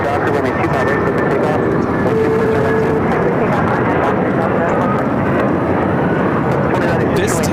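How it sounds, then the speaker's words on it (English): A United Airlines 757-200 taking off from LAX runway 25R, a loud, steady jet engine roar with a brief whining tone, heard under ongoing talk from nearby voices. "This takeoff is United Airlines 1331 taking off to Newark on the 757-200."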